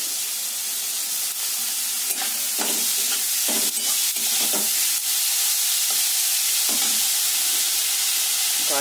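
Cabbage stirred and fried in a pan with salt while cooking chicken cheese balls gives a steady, loud sizzle and hiss, with soft scrapes and clinks of the spatula recurring throughout.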